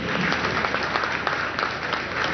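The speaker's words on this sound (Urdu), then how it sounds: "کمزور تالیاں ذرا زور والی ہونی چاہیے." A louder round of applause from the audience awaiting Prime Minister Imran Khan's speech in Pakistan, dense continuous clapping from many hands, fairly even and sustained.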